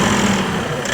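Toyota diesel forklift engine running steadily at idle after repair, a continuous close, loud rumble with a broad, even drone and no talk.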